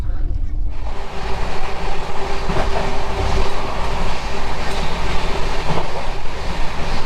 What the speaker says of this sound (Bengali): প্রায় কিন্তু 120 কিলোমিটার গতিবেগে আমাদের ট্রেন ছুটে চলেছে আমাদের গন্তব্যস্থল রাঁচির দিকে